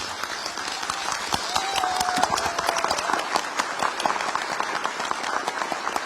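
Audience applause at a welcome gathering for the Korean president and overseas Korean compatriots in Türkiye, a steady dense clapping from a crowd that carries on evenly for several seconds.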